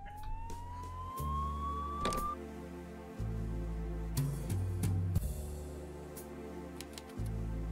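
A police car siren from the video game Pecaminosa wails and rises in pitch, passing close by over a steady low engine drone, with sharp clanks and thumps scattered on top.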